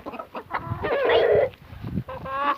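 Backyard chickens clucking while being fed worms: a close cluster of hens gives repeated clucks and drawn-out squawks, fairly loud, with brief pauses between calls.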